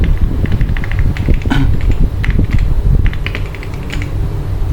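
Python code is typed on a computer keyboard in steady runs of close, crisp key clicks with brief pauses, over a constant fan-like hum, without speech.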